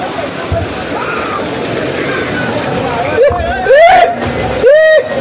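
Water rushes and splashes steadily on a slide at a water park, with friends' voices and excited shouts rising over the sloshing toward the end.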